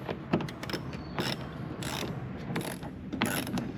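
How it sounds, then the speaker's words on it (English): Ratchet with a 7mm socket backing out a bolt holding the lower air dam on a Sierra 1500 pickup, a few close clicking bursts with short gaps between them. "a 7mm is going to remove this bolt"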